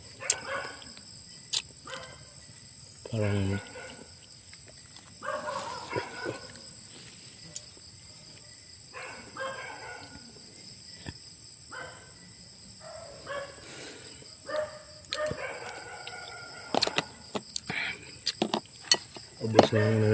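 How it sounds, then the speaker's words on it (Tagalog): Dogs bark in scattered bursts at night, some near and some farther off, over a constant chirring of crickets, with brief snatches of a person talking in between. "Hayop mga aso na yan."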